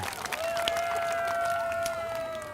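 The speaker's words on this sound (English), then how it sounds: "we should all give a loud cheer for our trees" Crowd at an outdoor Arbor Day celebration cheering and clapping, a short burst of mixed voices and applause, fairly near and moderately loud.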